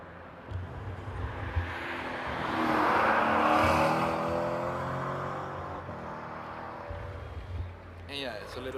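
A car engine revs near Paris Charles de Gaulle airport, a whooshing roar swelling to a peak and fading over several seconds, with aircraft noise in the background and a voice briefly at the end.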